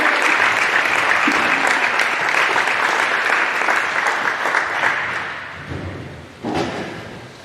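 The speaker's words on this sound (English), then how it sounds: "Please give a big round of applause to Alexandra Crook and Isabella Tyson" A school awards assembly at Burlingame breaks into applause as two students are called forward, a sustained wash of crowd clapping that fades after about six seconds, ending with a single thud.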